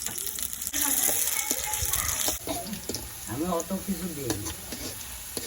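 Onions frying in oil for urad dal in a village kitchen, a steady sizzle with stirring scrapes and water sounds, a louder burst early on, then voices talking over the frying.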